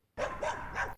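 A dog barks three times in quick succession, loud and close, after a short moment of silence, as a person slides on his backside into a dam while out fishing.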